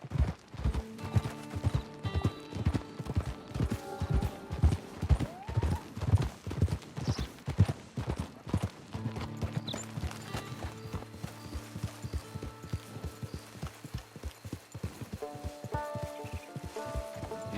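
Horse hooves clip-clop steadily on the ground in Red Dead Online, a regular walking rhythm up close for the first half, then fading into softer movement under game ambience, with a brief whinny.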